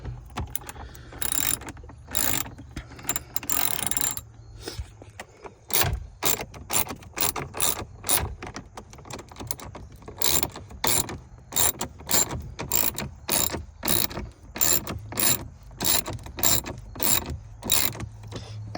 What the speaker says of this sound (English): this bolt right here is the one we're gonna pull out. It's 10mm here.